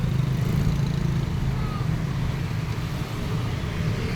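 Continuous road traffic in Talipapa, a dense low engine drone of cars, motorcycles and buses nearby, steady and unbroken with no distinct vehicle standing out.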